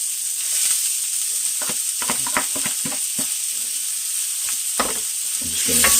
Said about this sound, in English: we're going to start off by sauteing our vegetables. You're doing our shallots and our celery.